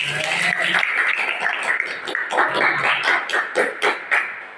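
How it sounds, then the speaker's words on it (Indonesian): Children in a Quran reading class clap their hands under voices, settling into a steady rhythmic beat of sharp claps toward the end, fairly loud and close. "Tepuk tangan dong, tepuk tangan."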